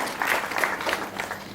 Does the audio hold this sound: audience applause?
yes